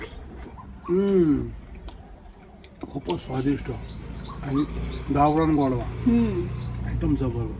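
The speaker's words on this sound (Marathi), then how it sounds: "आणि पक्ष्यांचा चिवचिवाट बघा" Small birds chirp in a home garden under a papaya tree, with quick repeated high chirps coming in bursts beneath a person talking steadily in the foreground.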